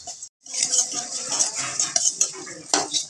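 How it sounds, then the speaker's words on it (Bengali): Flattened rice (chira) is stirred in oil in a frying pan, the utensil scraping and clinking against the metal steadily and loudly with a soft sizzle. "চিঁড়েগুলো দিয়ে দিলাম, দিয়ে এবার ভালো করে নাড়তে থাকবো"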